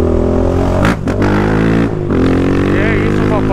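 Motorcycle fitted with an aftermarket exhaust, likely a Honda CB Twister, rumbling steadily at close range with a brief dip and a throttle blip, under a voice.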